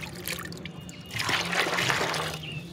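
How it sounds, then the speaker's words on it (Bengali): Water pouring into a tub, filling it about halfway to feed an indoor jade plant, a close, steady trickling splash that swells louder in the second half with no talking. "এভাবে করে গামলাটা আধা গামলা জল নিয়ে নিলাম"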